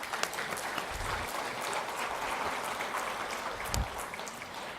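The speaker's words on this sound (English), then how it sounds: "Can we give her a round of applause again?" An audience at a university convocation claps in steady, sustained applause that fills the hall for several seconds, with no voices standing out.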